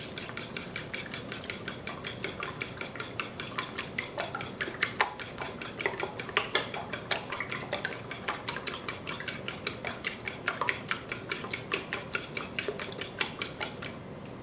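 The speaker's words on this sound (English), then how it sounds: "The next step is to beat 4 large eggs and set aside." Four large eggs being beaten in a bowl for a plantain meat pie, a steady fast rhythm of whisk or fork taps clicking against the bowl, close and continuous with no talking.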